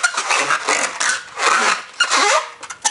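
A balloon being twisted into a balloon animal, giving repeated squeaky rubbery rubs and scrapes in irregular bursts; close and moderately loud, with no talk.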